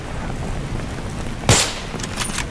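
A single sharp gunshot from the Battlefield 3 video game, fired during a night street fight, cracks out loud over a steady background rumble, with faint distant shots trailing after.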